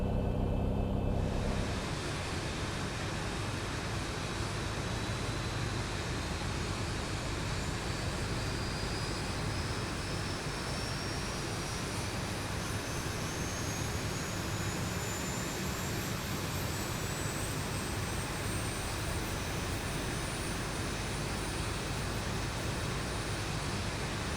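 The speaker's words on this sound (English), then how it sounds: "engine number 2 is now coming to life" Jet engine of a Boeing 737 in X-Plane 11 spooling up: a loud, steady roar with a whine that climbs slowly in pitch over many seconds, continuous and close, with no talk.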